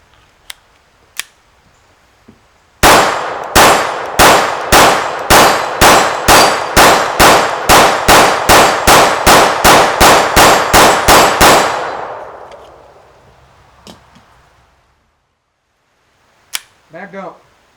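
A Sig P322 rimfire pistol fitted with a Holosun red dot fires a rapid string of about twenty sharp, evenly spaced shots at steel targets, loud and close, trailing into echo and a few scattered clangs afterward.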